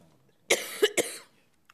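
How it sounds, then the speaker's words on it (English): A person coughs three times in quick succession, close and sharp, in an otherwise quiet room. "I'll yield back before I start coughing more."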